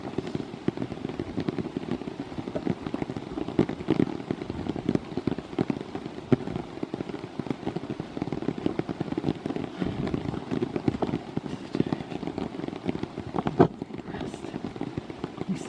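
Rain falling steadily with a dense, crackling patter of drops hitting a surface, continuous and even across the whole stretch with no voices.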